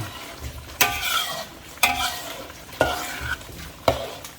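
A chicken feet dish in spiced sauce bubbles and sizzles in a pan while it is stirred, with a sharp scrape about once a second over a steady simmering hiss, close and fairly loud.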